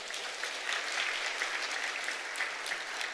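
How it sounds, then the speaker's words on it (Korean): A church congregation applauds during a Sunday worship service, giving steady, even clapping from many hands that fills the room at a moderate, slightly distant level for about three seconds. "박수로 우리 환영하겠습니다."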